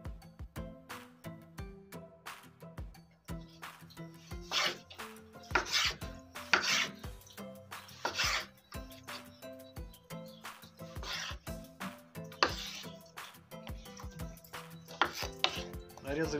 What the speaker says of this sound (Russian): Нарезали помидор, дальше лучок полукольцами.